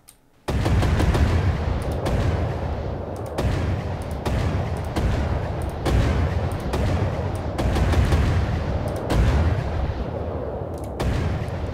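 A low-calibre cannon in From The Depths fires in a steady series of about nine deep, booming shots, each followed by a long rumbling echo, loud and close with no voices.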